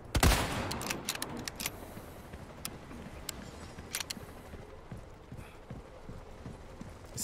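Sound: gunshots in a video game

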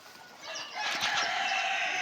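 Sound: chickens and rooster

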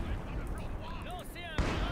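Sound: MG42 machine gun fire in Company of Heroes 2 video game

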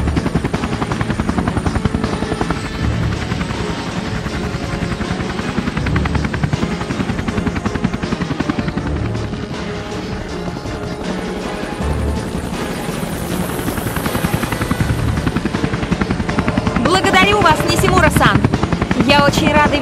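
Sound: Nishimura's helicopter in Tomb Raider Legend video game

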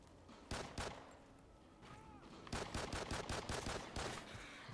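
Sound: gunfire, from the video game Call of Duty: Ghosts

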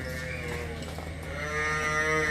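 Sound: cattle mooing on a dairy farm

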